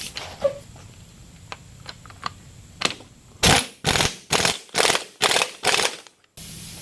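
An impact wrench hammers a bolt down on a Dana 20 transfer case drive shaft during a 1966 Ford Bronco rebuild: about seven rapid, evenly spaced ratcheting bursts, loud and close, following a few lighter clicks.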